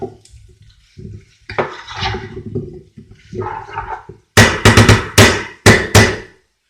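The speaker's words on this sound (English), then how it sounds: "Now, give that a stir." Spoon stirring a pot of smoked chicken kleftiko seasoned with black pepper, close scraping and clanking strokes against the metal pot, several sharp knocks near the end.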